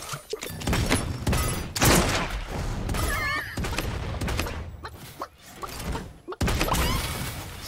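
Slug rifle fire in the Realm Royale game: loud, heavy booming shots at an irregular pace amid busy game effects, impacts and mechanical clicks, with bursts of clutter between shots.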